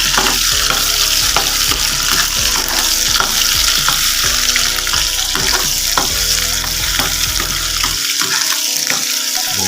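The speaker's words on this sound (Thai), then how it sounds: "เริ่มทอดแล้วนะครับ" Steady, loud sizzling of grated coconut and egg frying in a pan, with occasional clinks of a utensil stirring and scraping throughout.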